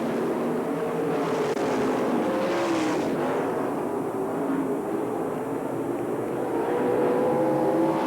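Race cars roar around Manzanita Speedway during the 1990 Western World Championship, engines whining and surging close by as they pass, with a loud, continuous drone shifting in pitch.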